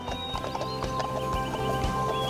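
Horse hooves clip-clop in a steady, close, fairly loud rhythm during a mountain ride in the Béarn region, with a faint low hum underneath and no speech.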